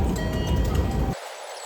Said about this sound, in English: The sign says the Ginza line bound for Asakusa, so this is the train we want.